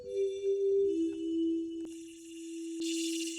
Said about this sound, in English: So sine wave and noise.